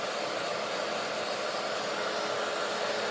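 A hair dryer blows steadily on a clay ornament, a close, loud, unbroken whooshing roar with a faint whine that holds level throughout.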